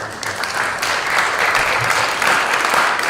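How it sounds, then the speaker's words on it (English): Audience applause fills a school board of education monthly meeting, a steady sustained clapping from a crowd with no talk over it. "a round of applause for the professional community at the Straford Public Schools."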